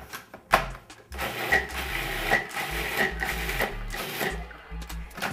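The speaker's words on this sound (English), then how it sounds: "I'm just gonna use my food processor to mix that up." A food processor chops raw taco nut meat in short, loud bursts. Several pulses come in an uneven rhythm, with brief pauses and a knock between them.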